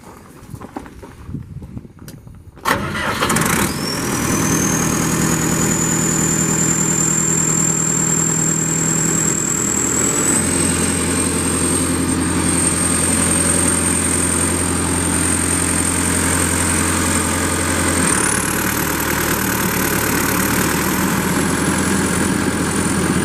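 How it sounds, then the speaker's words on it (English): A Perkins turbocharged diesel engine on a 1999 Vermeer 1250A brush chipper cranks and fires up after a few seconds of quiet, then idles loud and steady nearby, its tone shifting slightly in pitch partway through. "You have yourself a Perkins engine, turbocharged. We're going to go ahead and fire it up here just to show you how nice it runs."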